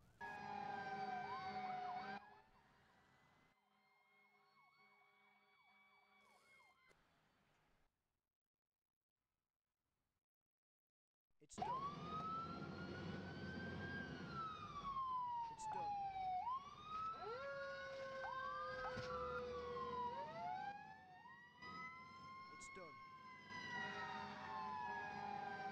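Fire engine and tanker sirens wail in the Emergency 4 video game, several overlapping wailing and yelping tones rising and falling, a faint siren first, then a brief silence before loud, layered sirens sound together for the rest.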